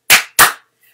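Two sharp hand claps, evenly spaced and close, ring out alone as part of a clapping pattern in a sung round at a live music session.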